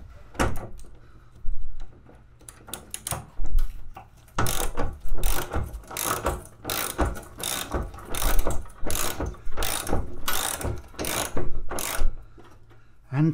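A hand ratchet drives a 13mm socket during bulkhead and headliner removal in a budget van build, clicking in quick close bursts of rapid pawl ticks separated by short pauses.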